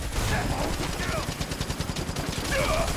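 Gunfire rattles in rapid, steady bursts during a battle in the video game Final Fantasy VII Remake, dense and continuous under game voices and combat effects.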